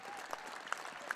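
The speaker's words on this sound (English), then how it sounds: "now that applause" Applause from the football crowd around all four sides of the ground at a Spennymoor Town versus Darlington match, faint and distant, with a few sharper claps standing out.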